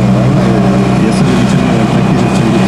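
A car driven hard in pursuit of another car, its engine a loud steady roar with heavy road and wind rumble filling the cabin, no break in the noise.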